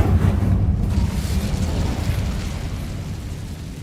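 An Incendio fire spell in Hogwarts Legacy bursts into a loud roaring whoosh of flame that holds steady and then slowly fades, close and dense with no voices.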